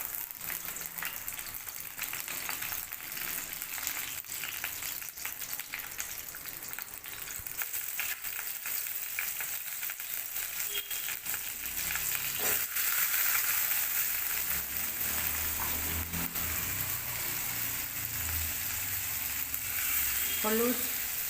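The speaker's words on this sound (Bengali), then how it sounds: "আলুর সাথে পেঁয়াজটাও ভালো করে লাল লাল করে ভেজে নিব" Sliced potatoes and onion with a bay leaf, turmeric and salt frying in reused fish-frying oil, a steady loud sizzle throughout with occasional stirring scrapes and a faint voice in the background.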